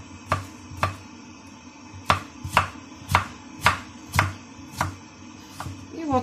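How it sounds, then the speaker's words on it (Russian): Steady knife chops cutting carrots into strips on a wooden board, about ten firm evenly spaced strokes, close and clear with no voices. "Режем морковь соломкой."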